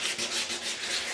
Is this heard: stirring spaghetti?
no